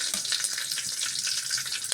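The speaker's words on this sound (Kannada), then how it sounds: "ಈಗ ಎಣ್ಣೆ ಬಿಸಿಯಾಗಿದೆ, ಸಾಸಿವೆ ಹಾಕ್ಕೊಳ್ತೀನಿ. ನಂತರ ಕರಿಬೇವು, ನೆಕ್ಸ್ಟ್ ಹಸಿಮೆಣಸಿನ್ಕಾಯಿ" Mustard seeds, curry leaves and green chillies frying in hot oil for a South Indian tomato saaru, a close, continuous crackling sizzle with bright spattering pops and no talk.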